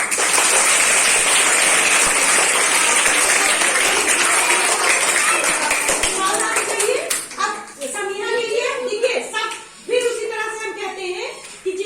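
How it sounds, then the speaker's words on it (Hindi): Children clap together in a lively burst of applause at a school children's parliament formation, loud and dense for about six seconds, then thinning into scattered claps as children's voices and chatter take over. "ताली बजाइए।"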